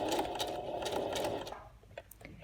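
A sewing machine runs briefly in a fast, buzzing burst while backstitching a messenger bag, then stops, leaving a few faint clicks and light handling noises.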